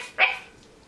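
A puppy gives one short, high bark, close and clear, followed by quiet.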